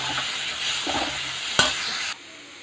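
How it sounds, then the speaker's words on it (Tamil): Tomatoes with salt and turmeric sauté in a pan for gravy, a close, steady sizzle broken by stirring scrapes and one sharp clack of the spoon before it cuts off. "இப்போ வந்து இதை நல்லா வதங்கணும்"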